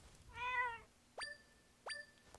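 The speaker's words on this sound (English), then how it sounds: "Oh, there are cats in here," Cats in a video game: one clear mid-length meow, then two short, bright chime-like dings, all faint and alone with no talk.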